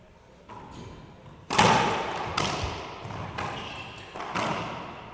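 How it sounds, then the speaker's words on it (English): Racquetball drive serves in a pro semifinal match in Tampa, Florida: a sharp ball crack off the front wall followed by several echoing thuds as it rebounds around the enclosed court, each impact ringing out in a large reverberant space. "Ace drive serve by Ben Croft."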